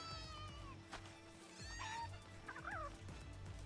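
Poultry calls from a chicken in the Palworld video game, several short warbling clucks and gobble-like bursts over a steady game ambience with background rumble.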